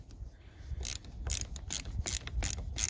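A ratchet wrench loosening the 8 mm nut on a 2012 Ford F150 Raptor's positive battery terminal, a quiet close series of quick clicking bursts repeating about every half second.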